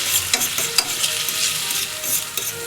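A single egg scrambled right in a frying pan, giving a steady sizzle with scraping and stirring strokes from a utensil against the pan, continuous and close, with no one talking.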